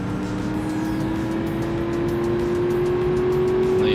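Car engine in the driving game BeamNG Drive, a steady loud drone with a slowly rising pitch as it revs, continuous for four seconds with no talk.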